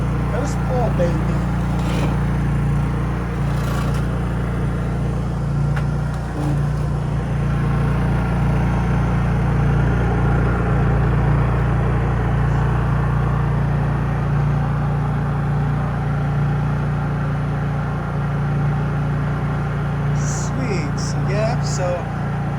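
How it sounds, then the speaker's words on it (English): A portable generator engine, started with a pull cord and choke, runs at a steady low idle hum throughout, fairly quiet and constant, while someone talks over it nearby. "this generator is actually pretty quiet"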